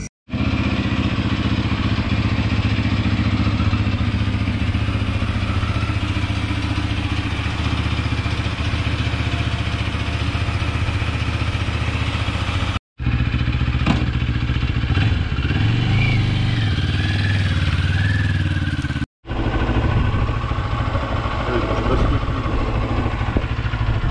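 A Moto Morini Xcape first-generation motorcycle engine idling just after a cold start: a loud, steady, close throbbing idle held for the whole stretch, broken by two brief dropouts, with no voices over it.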